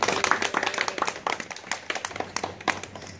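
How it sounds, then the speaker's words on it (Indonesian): An audience at a university student affairs event claps after a vice-rector's speech, giving brisk, irregular clapping from many hands at close range with a faint murmur underneath. "Tepuk tangan dong."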